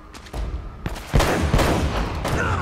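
Rapid gunfire bursts in the video game Uncharted: Drake's Fortune Remastered, loud and close with repeated overlapping shots building into a dense volley.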